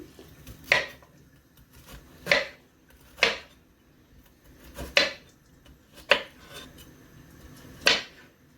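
Bitter gourd being cut with a knife for cooking: six separate sharp chops land on a cutting board at uneven intervals, close and crisp, with quiet pauses between them and no talking.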